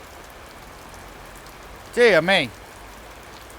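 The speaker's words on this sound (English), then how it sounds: "It's absolutely pouring with rain." Heavy rain pours steadily outside a fish shop, a constant dense hiss throughout, with a brief exclamation from a voice over it.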